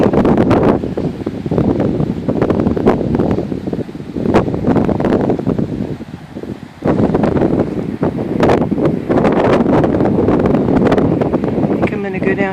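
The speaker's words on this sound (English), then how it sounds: "windy here today." Wind gusts through an outdoor park, buffeting the microphone with a steady, loud roar that rises and dips in waves from start to finish.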